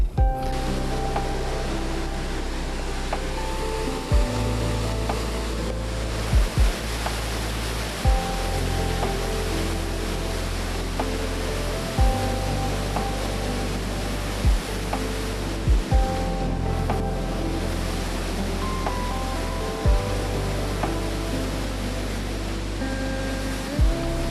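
Water rushes through Rasul Barrage, an irrigation barrage, in a steady, dense roar that fills the whole stretch, with soft tonal notes and periodic low thumps layered over it.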